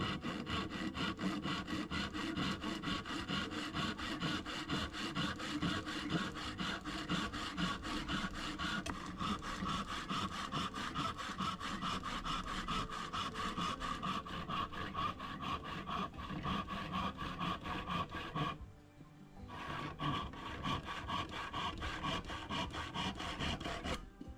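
A manual hand saw works through hardwood recycled from an old sofa frame, a steady rasping stroke rhythm that runs close and continuous, briefly pausing near the end before resuming.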